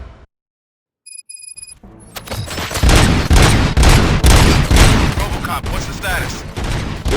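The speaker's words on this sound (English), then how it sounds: "Gunshots? What's going on?" In the video game Robocop: Rogue City, a brief electronic beep is followed by rapid gunfire that erupts and keeps going, loud dense bursts of shots overlapping one another for several seconds.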